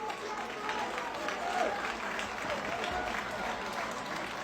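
A big, packed stadium crowd at a Bradford Bulls rugby league match against Featherstone Rovers cheers and applauds the Bulls players, a dense, steady roar of clapping and shouting that holds for several seconds without letting up.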